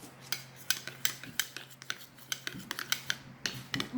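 A spoon stirring honey into yogurt in a bowl, with rapid repeated clinks and scrapes against the dish in an uneven rhythm, close and clear.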